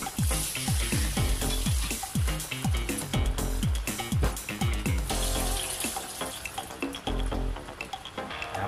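Squash (kalabasa) is washed under a running kitchen tap. The water rushes loud and continuous while the pieces knock and clatter in an irregular rhythm close by.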